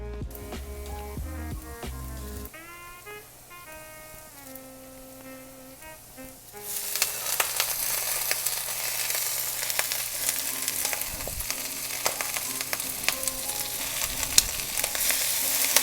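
Collard greens sizzling in a pan: after a quiet musical opening, a loud, steady frying hiss starts and continues close up, with occasional stirring clatter and no talking.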